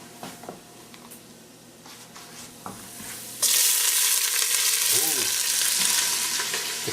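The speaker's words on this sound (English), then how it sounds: "That's brown, now we'll add the onion." Onion tipped into a pan of browned meat, a quiet crackle and stirring scrapes that suddenly swell into a loud, dense, continuous sizzle as the onion hits the hot fat, close by.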